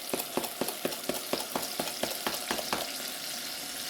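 Blended tomato juice poured into a pan of frying garlic, a quiet sizzle with rhythmic stirring taps of a utensil against the pan, close and steady.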